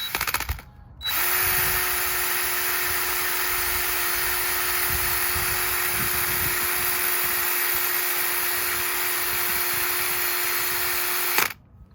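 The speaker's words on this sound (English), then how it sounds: "I got this wire wheel for the drill" A drill spinning a wire wheel to clean a bolt on an AWD 1999 Honda Civic project, a steady loud whirring drone that starts after a second and runs continuously until winding down near the end.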